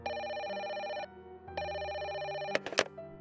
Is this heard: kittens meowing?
no